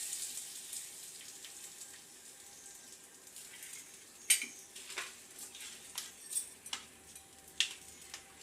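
A spoon stirring hot tempering with dried red chilli into peanut chutney in a home kitchen, giving faint scraping and a few sharp clinks against the pan or bowl, quiet and without speech.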